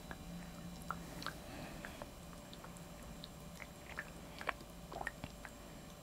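Quiet, close-up gnawing of a Maltese dog working on a chew, with soft squishy chewing and scattered sharp crunchy bites in an irregular rhythm over faint room hiss.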